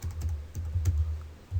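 A short run of keystrokes on a computer keyboard, a handful of soft quick taps close by, with no voices.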